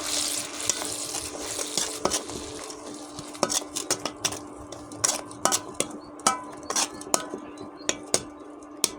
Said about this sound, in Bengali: সর্ষেগুলো হালকা করে কষিয়ে নেবো সর্ষে বেশি কষানো যাবে না